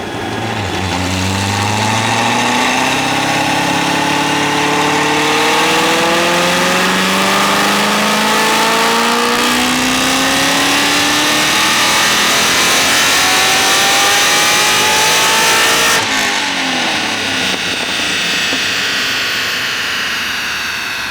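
A supercharged Camaro engine revs hard on a dyno, rising in a loud sustained whine with climbing pitch, then easing off near the end, with no talk.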